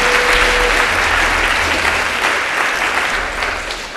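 An audience at a lightning talks event claps steadily in a dense, loud burst of applause that tapers slightly toward the end.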